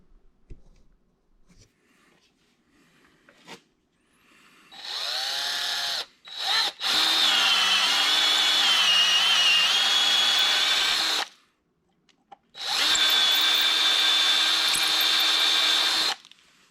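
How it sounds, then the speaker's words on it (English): An electric drill whines in long bursts while drilling out threads for repair, its pitch dipping under load as it grinds, with short pauses between runs. "So be careful when you're drilling that."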